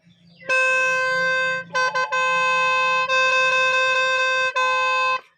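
A khaen, a reedy free-reed mouth organ, holds a bright high Re note, played in a few sustained blows with short breaks between them.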